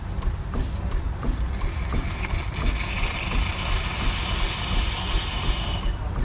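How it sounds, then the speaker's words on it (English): A 1915 steam engine in an old Canadian village runs its double-acting piston back and forth, heard as a steady close hiss of steam with faint rhythmic knocks early on. "that's the piston going back and forth in there, and the piston steam works on both sides"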